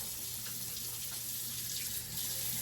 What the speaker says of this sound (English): I'm also going to wash my hands really fast